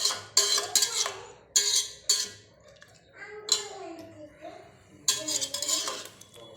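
A spoon scrapes and clinks against a pot as rice with mutton and soup is stirred for a quick mutton biryani, sharp metallic strokes coming in bursts with short pauses between them.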